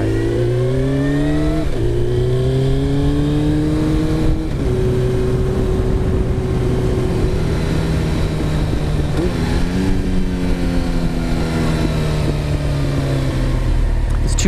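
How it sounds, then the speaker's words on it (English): A 1993 Honda CBR900RR Fireblade motorcycle fitted with a loud Two Brothers aftermarket exhaust revs up and down close by, its engine note rising and falling steadily in pitch over a continuous loud drone. "Two Brothers pipe is really, really loud."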